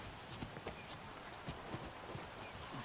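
Faint hoof clip-clops from a horse in the video game The Last of Us, a few soft irregular steps heard from a distance in quiet surroundings.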